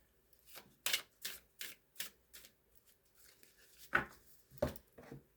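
Cards being shuffled by hand, soft close riffles and taps in quick bursts with brief pauses between them, quiet overall with no talk.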